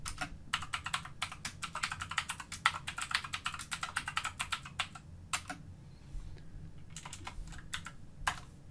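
Computer keyboard typing, quick bursts of close, crisp keystrokes in irregular runs with short pauses between, fairly quiet and alone.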